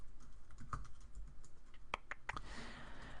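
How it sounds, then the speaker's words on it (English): Faint keystrokes on a computer keyboard while code is typed, coming as a few scattered clicks followed by a quicker cluster, over a low background hum. "we just type in our variable"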